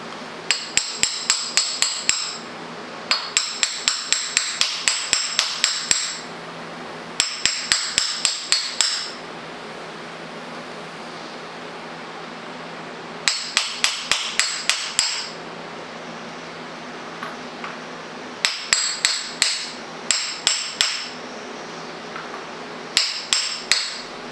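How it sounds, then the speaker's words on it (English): A hammer taps on a socket to drive a part home while working on a CJ5 Jeep, in quick bursts of sharp metallic blows separated by short pauses, close and clear with no talking. "take my socket and hammer and start tapping it in."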